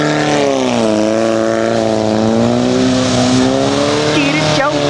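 A Geo Tracker spins donuts in the snow, its engine revving loud and close with a strained, rising and falling whine as the revs shift, with voices talking over it.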